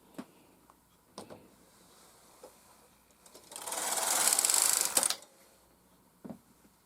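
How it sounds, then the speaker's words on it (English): Connected carriages of a Brother KR 830 knitting machine with a ribber slide right to left in one loud, rattling sweep of about two seconds, with light mechanical clicks before and after. "So I'm going to pass the connected carriages from right to left."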